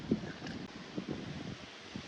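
Strong wind buffets the microphone in low, uneven rumbles and gusts at a fishing spot, fairly quiet, with faint rustling and no speech.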